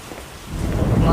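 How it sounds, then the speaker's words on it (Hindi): Heavy rain pours steadily while thunder rolls and swells louder, a dense and close storm with no other sound. "इस साल इतनी तेज बारिश थी कि उसकी झोपड़ी गलने लगी।"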